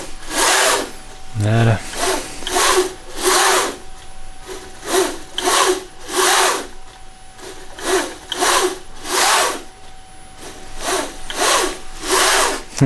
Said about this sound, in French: je suis en train de découper cette pièce